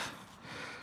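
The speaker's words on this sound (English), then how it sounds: "Sniffing a bit." A single short sniff through the nose from a person with mild hay fever, close and quiet, a brief breathy intake lasting under a second.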